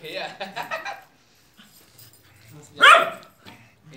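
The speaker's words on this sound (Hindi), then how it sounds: "ये जर्मन शेफर्ट ये पाकिस्तानी शेफर्ट है वाइट कलर में" German and Pakistani shepherd dogs give a few barks: a cluster of quick barks at first, then one louder bark after a pause, with speech nearby.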